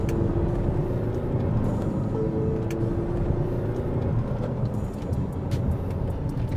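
A 2025 Tata Harrier's engine pulling under throttle, a steady low rumble with a rising tonal drone, heard close and continuous alongside road and cabin noise.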